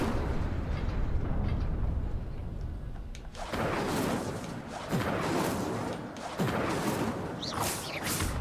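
The Incendio fire spell is cast in a Harry Potter video game: after a low rumbling lead-in, a sudden roaring burst of flame erupts, followed by repeated loud whooshing surges of fire.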